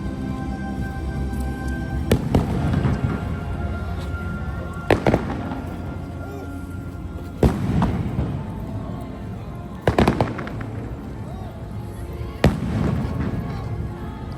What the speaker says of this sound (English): After a long day, we watched the fireworks as we headed back to our room.